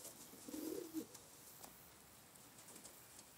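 Pigeons in a coop give one soft, low cooing phrase early on, then the space falls quiet apart from light rustling and scattered faint sounds.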